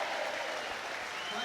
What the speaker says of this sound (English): the applause is because Nathan Smith, who is an absolute club legend